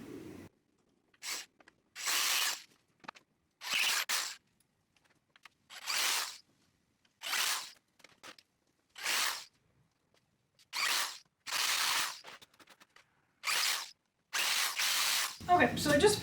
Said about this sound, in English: now I'm going to drill some holes for mounting.